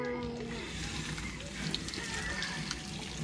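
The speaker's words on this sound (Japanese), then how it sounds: "お水を流します。" Tap water running steadily to rinse in a sink in winter, a faint continuous splash and hiss with speech over it.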